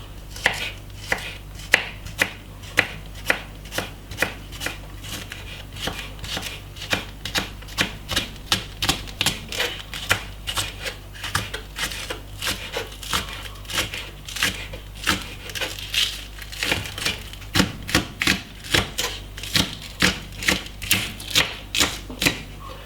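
A knife chops spring onion on a board for a curry chicken dish, producing a long, steady run of loud, close, rhythmic chopping strokes with no talk.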